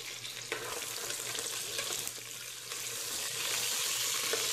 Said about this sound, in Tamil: கருவேப்பிலை, பிரியாணி இலை, பச்சை மிளகாய், வெங்காயம் இதெல்லாம் சேர்த்து வதக்கிக்கணும் நம்ம நல்லா.